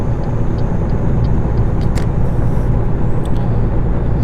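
A Scot A2HD truck engine in American Truck Simulator drones loud and steady at about 62 mph, a constant low rumble with a few faint clicks above it.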